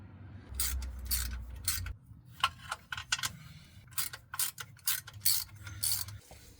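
A ratchet clicks in quick bursts while loosening 13 mm timing cover bolts on a Hummer H3 engine, the ratcheting close and fairly faint, repeated in short rapid runs with a low rumble beneath.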